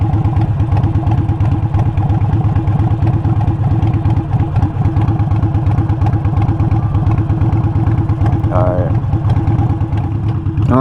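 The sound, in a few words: motorcycle engine running during ride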